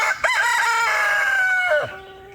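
A rooster crows a single long cock-a-doodle-doo, loud and near, ending in a falling tail.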